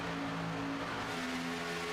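NASCAR stock cars racing at Daytona International Speedway produce a continuous engine roar with steady tonal whine, running double file in a pack at moderate distance.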